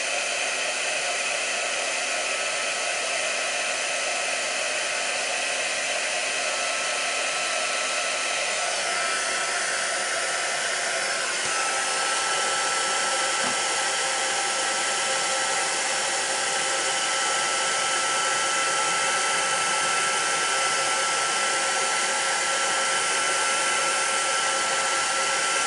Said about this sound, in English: Bring in my heat gun. I'm going to be noisy now for a minute or two.